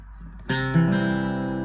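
A guitar chord rings out after a brief quiet moment, its strummed notes sustaining evenly and close up, with no voices.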